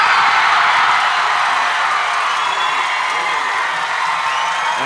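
A loud stadium crowd at a high school state semifinal football game cheers and roars after a touchdown, a dense sustained wash of voices filling the whole stretch.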